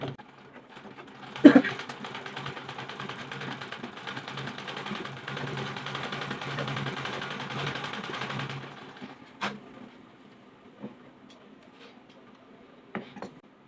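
Domestic sewing machine stitching a piece of cloth, a steady continuous whirr running for about seven seconds before stopping, followed by a few faint clicks and handling sounds.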